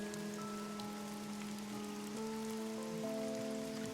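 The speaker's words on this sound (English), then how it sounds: "Rain everywhere." Steady rain falls without a break under low, sustained tonal ambient music, a soft continuous hiss with no voices, fairly quiet throughout.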